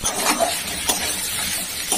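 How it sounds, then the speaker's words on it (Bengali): Boiled peas and potatoes being stir-fried in chilli powder, sugar and salt, with a steady soft sizzle and scraping spatula strokes close by, no talk. "সুন্দর করে কষিয়ে নিচ্ছি"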